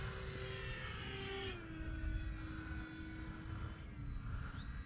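A radio-controlled Cessna 182 scale model airplane drones steadily overhead on approach at a grass and runway field, its engine note shifting pitch as it passes, fairly distant and continuous with no talking.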